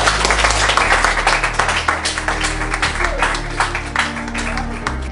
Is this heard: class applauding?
yes